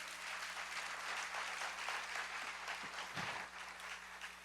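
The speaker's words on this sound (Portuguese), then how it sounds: "Aplauda ao Senhor." A church congregation applauds: a faint, continuous wash of many hands clapping at a distance, steady for several seconds, with a low hum underneath.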